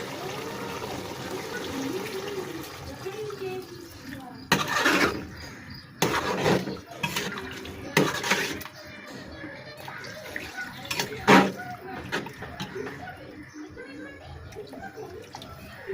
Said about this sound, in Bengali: এবার পানি দিয়ে দেবো